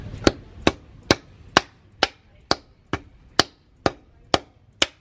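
Steady hammer blows, about ten evenly spaced sharp metallic strikes, tap rusted-in brake pads into the caliper bracket on the rear brakes of a 2013 Chevrolet Malibu, close and loud, with no talking.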